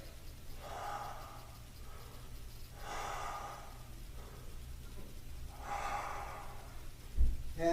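Three deep, slow breaths taken during a floor workout with arms and legs lifted, each a broad airy inhale-exhale roughly every two and a half seconds, close and fairly quiet over a low steady hum, with no talking.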